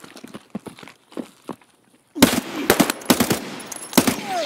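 Gunfire in the shooter game Escape From Tarkov starts halfway through, a loud rapid string of shots in short bursts after quieter clicks and taps, with no talk.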